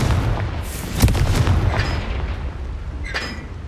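A Confringo fire spell explodes in Hogwarts Legacy, a loud, deep boom with a crackling burst that rumbles briefly and fades.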